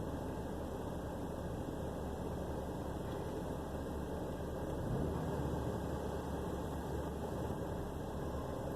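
A truck engine idles with a steady, low mechanical rumble at moderate level throughout, swelling only slightly midway, with no talking over it.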